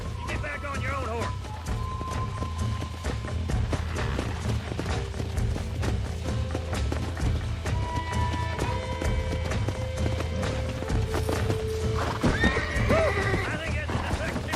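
Horses neigh and whinny repeatedly over a steady clip-clop of hooves in the video game Red Dead Redemption 2, with people talking and music playing alongside.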